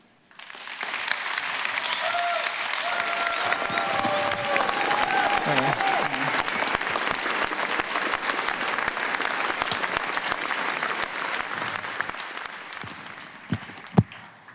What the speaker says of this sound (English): Maybe give one more round of applause for the Jolla guys.